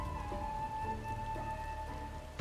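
Rain falls steadily in Final Fantasy XIV, a soft continuous patter on surfaces alongside faint sustained tonal game ambience, quiet with no voices.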